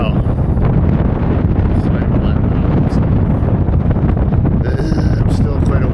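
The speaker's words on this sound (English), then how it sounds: "this headwind is kind of beating me down right now" A strong headwind batters the microphone with loud, continuous low rumbling buffets during a summertime bikepacking trip toward the coast, with a brief spoken word mixed in.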